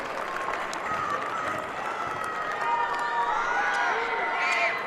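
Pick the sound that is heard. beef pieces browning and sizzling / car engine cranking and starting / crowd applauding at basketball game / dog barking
crowd applauding at basketball game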